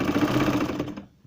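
Sewing machine stitching a baby frock, a steady rapid run of needle strokes close up that stops abruptly near the end.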